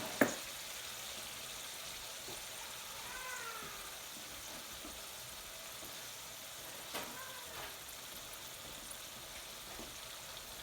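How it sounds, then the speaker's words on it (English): Jeera chicken curry sauce, a cumin-flavoured BIR-style curry, simmers in a pan with a soft, steady sizzle and a few faint clinks, low and continuous. "So I'm just going to put it on, simmer it down."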